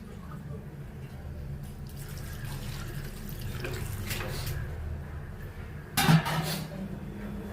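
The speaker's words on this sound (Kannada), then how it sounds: "ನೀರು ಹಾಕ್ತಾಯಿದ್ದೀನಿ." Water splashes and pours steadily into a cooking pot at close range while making avil, with a louder clatter near the end.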